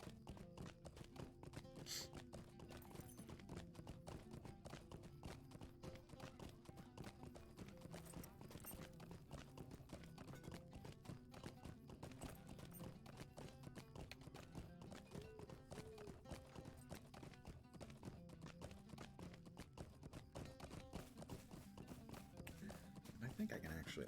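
In the Lord of the Rings Online game, a horse gallops on a long ride in steady rapid clip-clop hoofbeats throughout, with a faint neigh, under continuous talk.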